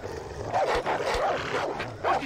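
Dog barking in Far Cry 3, a run of sharp, loud barks and yips close by, repeating in quick bursts over game ambience.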